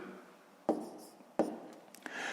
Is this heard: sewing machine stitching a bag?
no